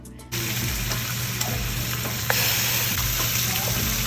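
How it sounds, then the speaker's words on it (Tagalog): Rainbow trout fries in melted butter in a hot pan, giving a steady, close, continuous sizzle with faint crackles and no talk. "In a hot pan, a melted butter and fry the fish"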